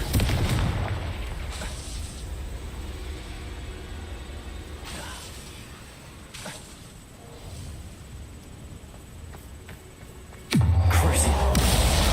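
Confringo fire spell blasting in Hogwarts Legacy, a booming explosion that rumbles and fades into crackling debris, followed by another sudden loud burst near the end.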